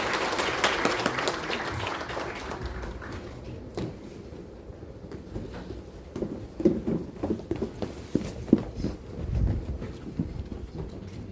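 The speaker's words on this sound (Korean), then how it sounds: "큰 박수로 맞이해 주시기 바랍니다." An audience at a Democratic Party citizens' lecture in Daejeon claps to welcome a speaker; dense applause at first, then thinning into scattered claps and shuffling noise.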